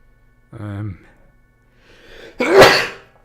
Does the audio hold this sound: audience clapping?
no